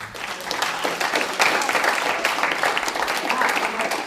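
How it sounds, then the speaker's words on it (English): Audience applause at the close of a media literacy evening event, continuous clapping from a room full of people, fairly loud and even throughout, with a few voices mixed in. "give a round of applause for our"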